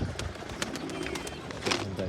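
Pigeons coo and flutter faintly nearby, their soft calls mixed with light scuffing and a person speaking quietly in the background.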